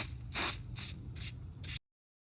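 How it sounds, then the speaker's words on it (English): NOCO battery cleaner is sprayed onto a car battery in four short, close hissing bursts with brief pauses between them, then silence. "then spray here."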